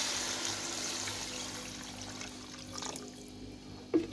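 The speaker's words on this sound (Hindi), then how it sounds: "ये डाल के हम इसमें तकरीबन 2 लीटर जितना पानी डालेंगे।" Around two litres of water is poured into a pot of whole spices for chicken yakhni, a steady close splashing stream that thins out, ending with a sharp clunk.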